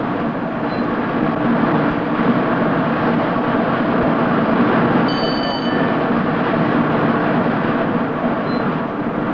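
A train rushes along at its 125 mph cruising speed, a loud steady roar with rhythmic rumbling and a brief high tone midway.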